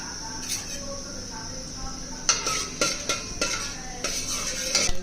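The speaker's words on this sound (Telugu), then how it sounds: "నెయ్యి వేగాక ఇప్పుడు జీడిపప్పు వేపుకొని" Cashew nuts fry in hot ghee in a pot, a soft steady sizzle broken by several clanking stirs of a utensil against the metal, close and moderately loud.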